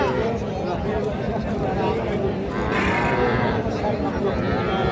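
A cow with her calf at a busy cattle market gives a clear, drawn-out moo partway through, set against a murmur of voices and people talking nearby.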